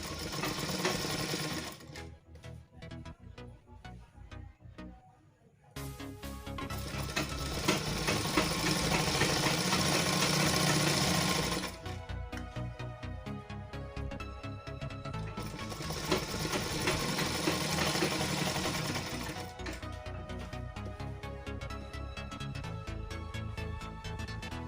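An electric sewing machine stitches fabric for a salwar in fast, loud mechanical runs, pausing briefly between bursts of rapid whirring.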